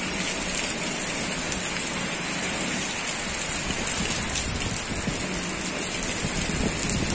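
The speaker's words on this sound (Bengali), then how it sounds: "বাতাসের ঝড়ের একটা শব্দ আছে আলাদা" A heavy rain and wind storm in a rural village sends a steady loud roar of rain and gusting wind across the whole stretch. It is unbroken noise, with no voices.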